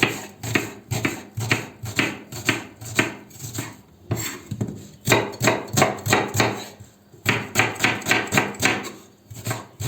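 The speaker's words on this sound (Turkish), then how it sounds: "Yemeğimiz için bir adet soğan ince ince kıyıyoruz." An onion is finely chopped with a knife on a cutting board, a close series of rapid, sharp taps in bursts separated by brief pauses, with no voices.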